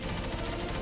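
Enemy gunfire in the video game K.I.A. comes as a dense, rapid burst of shots, loud and close, with no talk over it.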